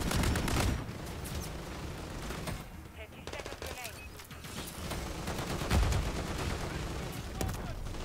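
Shotgun blasts and other gunfire in a Call of Duty MW3 online match, sharp loud reports in quick bursts amid battle noise, with a player talking over it.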